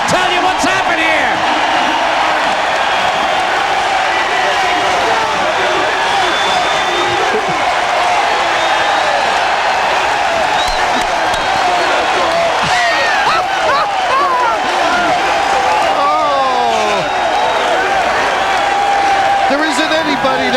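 Arena crowd at a 1993 NBA playoff basketball game between the Cavs and the Nets, a loud, sustained roar of cheering and whoops lasting throughout, with sneaker squeaks and a commentator's voice over it.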